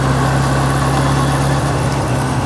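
A 1981 Suzuki Katana GSX1100S motorcycle engine running close by, a loud, steady low rumble with an even idling throb and no change in pace.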